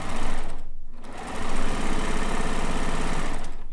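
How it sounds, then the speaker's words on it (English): A sewing machine runs a straight stitch with a loud, fast, steady mechanical whirr close up, briefly pausing for a moment before continuing at an even pace. "a piece straight stitch on the sewing machine."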